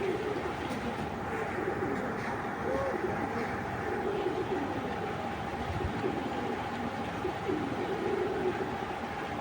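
A Belgian Red Fox racing pigeon hen coos in low, soft, repeated calls over a constant background rumble.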